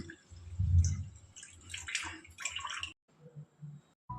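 Blended healthy juice is poured from a container into a glass in uneven glugs and splashes, a low gurgle at first, then lighter trickles and a few dribbling pours.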